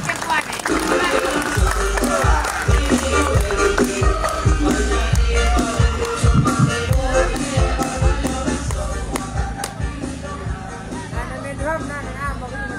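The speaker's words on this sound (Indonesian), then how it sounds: "mari kita jemput dengan tepuk tangan yang paling semangat" A crowd at an evening political rally in Pahungalodu, East Sumba, applauds to welcome the regent candidate. There is dense, energetic clapping with rhythmic tapping and shuffling, loud and close, mixed with crowd noise and some voices.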